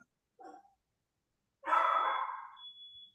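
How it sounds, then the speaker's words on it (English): A dog barks twice at home: a short, fairly faint bark, then after a pause a louder, longer bark that trails off, with quiet gaps around both. "My dog's barking at something."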